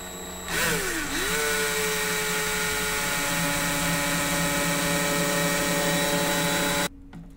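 A power drill twists wire for a zipper vape coil, speeding up from a low start into a steady high whine that holds for several seconds, then cuts off abruptly.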